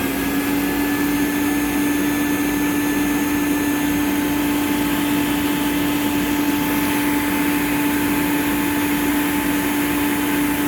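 Thermax AF120 vacuum cleaner running steadily and loudly up close, a constant motor whine with a strong steady hum and airy rush, no voices.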